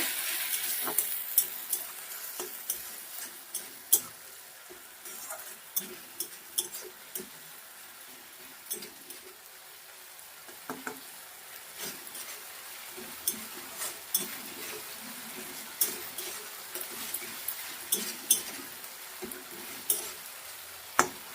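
Onions and garlic paste sauté in a pan for a Bengali fish curry (macher jhal), a steady sizzle broken by frequent scraping clicks of a spatula stirring, close and moderately loud with no talking.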